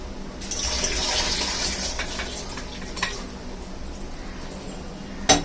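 Moth beans being rinsed in water in a home kitchen, a steady close splashing and pouring wash with a few brief clatters near the end.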